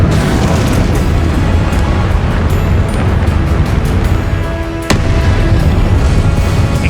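Descendo spell slamming down in Hogwarts Legacy: a heavy, rumbling impact within continuous loud spell-combat noise, with a sharp crack near the end.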